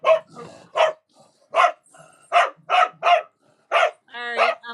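Several dogs barking in short, loud, separate yaps, with a brief whimper between barks and a higher yip near the end, close by and clear with no talk over them.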